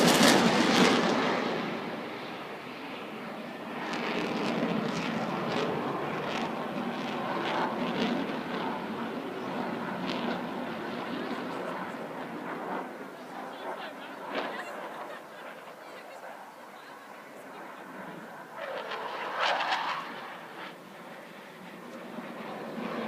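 A Eurofighter Typhoon jet flies at the Blackpool airshow, its distant roar rising and fading over the whole stretch with a fuller swell near the end, while a commentator talks over it.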